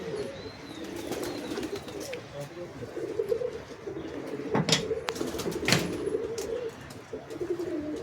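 Tagged teddy pigeons in a loft coo steadily in low, rolling phrases at moderate distance, broken by sharp knocks and bangs from construction work on their coop nearby.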